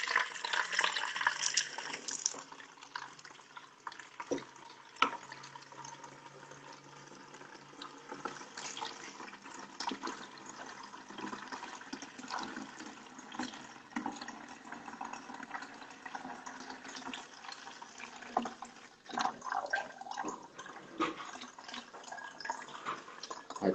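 Fertilizer solution poured steadily into a garden sprayer tank, a continuous close liquid splash and trickle that runs unbroken for the whole stretch with no talking.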